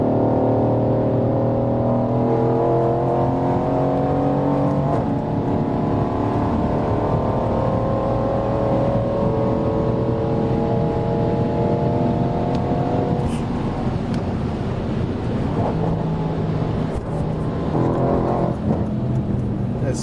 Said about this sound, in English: Yeah, it's a Renntech special exhaust on this one. Also turbo upgrades.